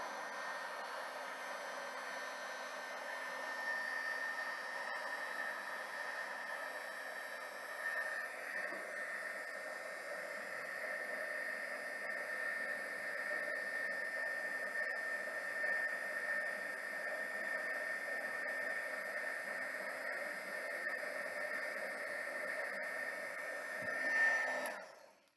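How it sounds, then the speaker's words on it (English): A heat tool blows hot air to melt embossing powder, a steady, fairly quiet whooshing hiss with a faint whine that continues unbroken and swells briefly just before cutting off. "So what we're going to do now is to heat up the embossing powder, and you'll see it change as it heats up."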